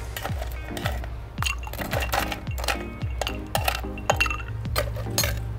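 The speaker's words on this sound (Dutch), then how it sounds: "Vullen met ijsblokjes." Ice cubes fall one after another into a cocktail glass, a close series of about a dozen bright clinks and knocks in an uneven rhythm, with no talking.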